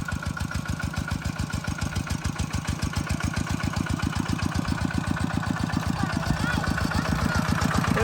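A farm tractor pulling a rice-planting crew, its engine chugging with a steady heavy rhythmic knock and sounding close to stalling, loud and close throughout.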